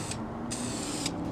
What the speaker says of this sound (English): Get a couple shakes on the bottle. Spray one